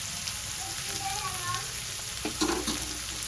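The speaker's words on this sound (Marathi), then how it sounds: "गाजर आणि पातीचा कांदा छान परतून घेऊया." Carrot and spring onion sauté in a pan for vegetable fried rice, a continuous hiss and crackle with a brief scraping stir near the end and faint voice-like tones in the background.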